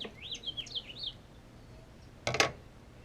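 Morning birds chirp in a quick run of bright, warbling whistles early on, fairly close and alone over a quiet background, followed by a sharp short noise burst near the end.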